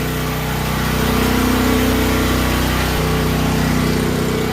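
A small gasoline engine left running after the fuel is shut off, a loud, steady, close buzzing drone that holds throughout without sputtering out.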